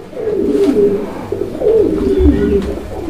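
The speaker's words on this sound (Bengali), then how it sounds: "এখানে আরও এক জোড়া কবুতরের কালেকশন আছে" Fancy pigeons coo at a pigeon farm, several soft, throaty rolling calls that repeat close by with little else around.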